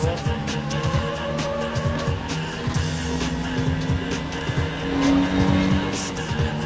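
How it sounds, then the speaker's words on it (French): A car slides across grass in the PS1 game Need for Speed, with a racing engine droning under repeated tire squeals and skidding, the loudest slide near the end and no talk over it. "Alors là je roule sur l'herbe donc évidemment ça glisse."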